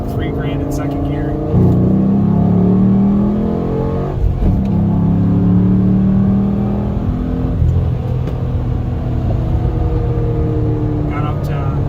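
A Camaro with a legal aftermarket exhaust pulls hard in second gear from about 3,000 rpm. The engine note swells repeatedly as it accelerates, close and loud, with a brief lull between pulls.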